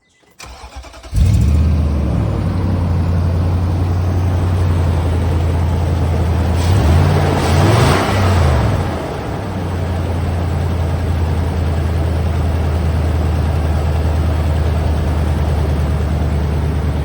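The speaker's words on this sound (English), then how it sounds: "So let's start this truck." A 2008 Nissan Titan V8 four-wheel-drive pickup cranks briefly and fires up loudly close by, then settles into a steady low idle with a short rev bump midway.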